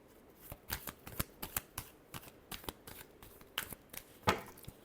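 A deck of tarot cards is shuffled by hand, giving a run of sharp riffling flicks and slaps in an uneven rhythm, close and clear, ending on a louder snap, with no talk.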